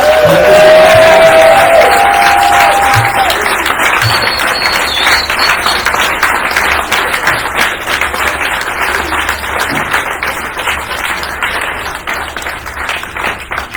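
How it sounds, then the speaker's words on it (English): A crowd gives loud, sustained applause with cheering and whoops at a celebration-of-life gathering in a cafe, filling the room steadily and fading slightly toward the end, with a brief whistle early on. "I just want to give the spirit of Jonathan David Goran a giant applause"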